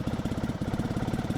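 A motorcycle engine idles on half choke with a steady, rapid loping pulse, close and fairly loud, running unevenly as if near stalling.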